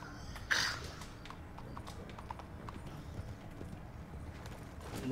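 Horse hooves clip-clop in a quick run of light knocks under a steady murmur of background noise at a bar with cowboys, plus one louder burst near the start.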